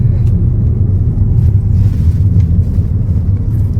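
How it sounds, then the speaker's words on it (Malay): Steady low rumble of a car interior while riding to a hotel in Ho Chi Minh City, Vietnam, a continuous road drone with no voices. "Saya dalam kereta menuju ke hotel."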